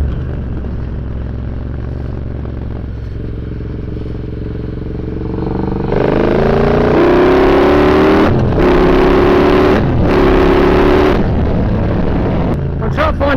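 A Triumph Bobber motorcycle engine pulls hard in fourth gear, rumbling steadily before surging into a loud rising roar with climbing pitch, broken by brief drops as the rider shifts or rolls off, amid heavy wind rush.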